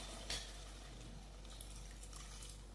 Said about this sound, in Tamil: நான் தண்ணி ஊற்ற போகிறேன்